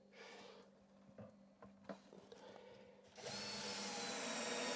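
A power drill drives screws into the bottom of an under-sink kitchen cabinet, with a few scattered knocks first and then a loud, steady whir that runs close and continuous to the end.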